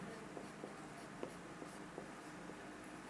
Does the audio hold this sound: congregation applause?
no